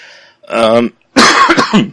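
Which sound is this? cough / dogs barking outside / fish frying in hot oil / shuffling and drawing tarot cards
cough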